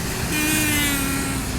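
An Adex Trans intercity bus rolls past at close range, a loud broadband engine and road roar holding steady throughout with a faint tonal whine.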